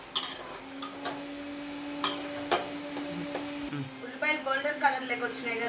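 Onions frying in a pan for a ridge gourd curry, a soft steady sizzle with clinks and scrapes of a utensil against the pan, under a voice talking.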